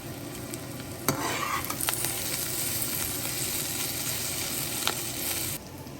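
Onion and tamarind sautéing in a pan for urad dal onion chutney, with a steady sizzle and scraping stirs close by and a few sharp clicks of the utensil against the pan, no talking.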